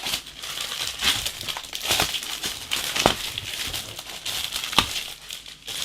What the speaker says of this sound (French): la figurine dans sa petite boîte vitrine hein, que je vais ouvrir